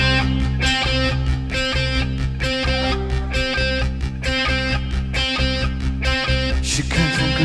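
A band performs a song live at a 1995 Britpop concert, with a full band of pounding drums, guitars and keyboards driving loud and steady throughout.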